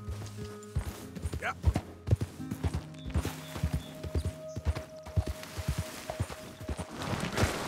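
Horse hooves clip-clopping in the game Red Dead Redemption 2, a quick steady trotting rhythm of hoof strikes with a brief whinny, fairly close and moderately loud.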